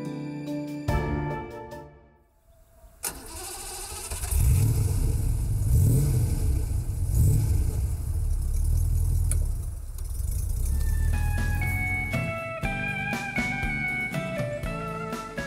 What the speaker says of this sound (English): the first series with a light alloy V8. And the corresponding beguiling sound.